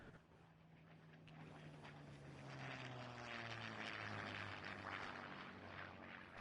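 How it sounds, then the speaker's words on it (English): A propeller airplane in Farming Simulator 19 drones steadily overhead, its engine hum slowly shifting pitch and swelling louder as it passes over a broad rumble of ambient noise. "Can hear the plane."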